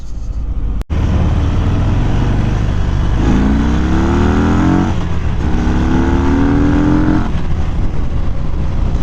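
A 2018 Harley-Davidson Fat Bob 114 motorcycle on a test ride revs hard through rising gear pulls, its engine note climbing twice in long sweeps over steady wind noise, loud and close, with no speech.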